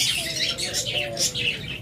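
A grey Indian ringneck parrot gives a quick series of harsh, rasping squawks, close by and loud, repeating steadily for a couple of seconds.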